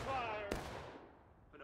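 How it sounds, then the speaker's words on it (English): Musket volley fire in War of Rights, a Civil War battle game on the Roulette Lane map: one sharp distant crack rolls into a fading echo, with someone talking just before it. "Some early volleys here. It's kind of surprising they're shooting this early."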